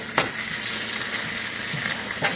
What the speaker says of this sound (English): that is going to really simmer